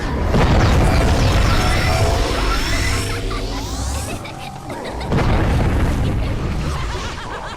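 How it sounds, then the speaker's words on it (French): Loud booming rocket launcher blasts and crashing debris fill the clip, with a sweeping whoosh midway and a second heavy explosion after a brief dip, like combat in a Buzz Lightyear video game. "Comme par exemple un lance-roquette."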